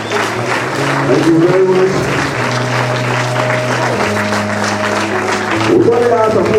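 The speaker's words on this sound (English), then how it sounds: "Give them a round of applause once again." Applause fills a university freshman admission ceremony, a sustained dense wash of clapping under a voice over a PA system that keeps talking through it.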